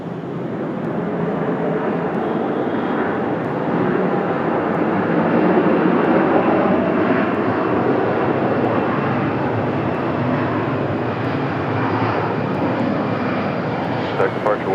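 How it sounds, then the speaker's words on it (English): A Delta CRJ jet touching down on the runway at Raleigh-Durham International, a loud, steady broadband engine roar that holds for the whole stretch without easing. "Delta CRJ touching down,"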